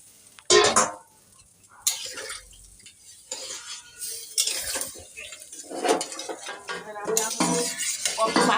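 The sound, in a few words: washing dishes in the sink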